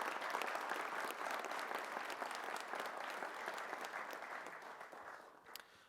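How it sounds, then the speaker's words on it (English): An audience at a Louisville city event honoring first responders claps steadily, a dense round of applause that gradually thins and fades out over about six seconds. "Let's give a round of applause for Mike Dossett there."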